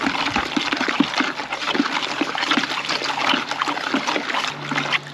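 Pond water pouring and splashing into a bucket beside a koi pond, a continuous trickling rush with small splashes, close and moderately loud, with no speech.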